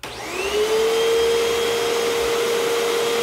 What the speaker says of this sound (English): So let's turn the space heater on and we'll turn the vacuum on.